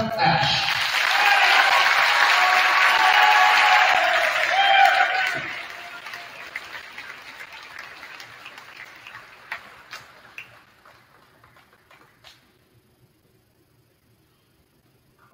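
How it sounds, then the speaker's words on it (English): A high school basketball crowd applauds senior Cullen Ash at a Southern Boone versus Blair Oaks boys' varsity game. Dense clapping fills the gym for about five seconds, then thins into scattered, fading claps and a few sharp ticks before near silence. "Ladies and gentlemen, big round of applause for Mr."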